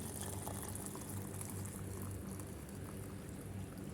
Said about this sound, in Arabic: هنحط ميه مغليه عشان ايه؟ تعمل بسرعه.